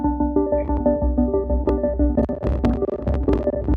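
A synthesizer sequence from VCV Rack modular software, with a looping pattern of clocked, plucky tones over a throbbing low bass pulse. It is steady, loud and close, with no talking over it.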